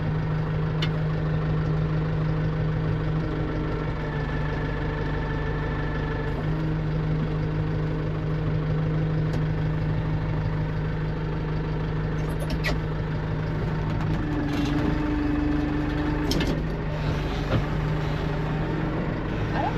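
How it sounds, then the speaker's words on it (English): A Kubota tractor engine runs quietly at a steady idle, a continuous low hum that stays even throughout with faint background clatter and no talking. "If any of you guys has noticed how quiet the Kubota is now"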